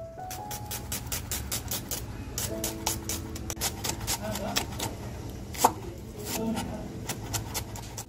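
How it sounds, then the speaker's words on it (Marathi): A knife finely chopping onion on a board, rapid rhythmic taps with soft background tones and some faint voice underneath. "तर कांदा आहे ना असा मस्त बारीक कापून घेणार आहे"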